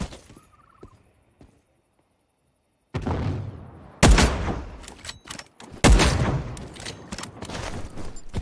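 Gunfire in the video game The Cycle: Frontier: after a near-silent stretch, sharp, loud rapid shots crackle in clustered bursts with heavy booming impacts, close and dense through the second half.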